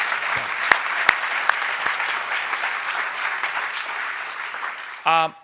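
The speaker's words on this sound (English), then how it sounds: "can we please have another round of applause for these two people?" Audience at an awards celebration applauds steadily for about five seconds, a dense, even wash of clapping with a few sharper claps standing out, before a voice briefly cuts in at the end.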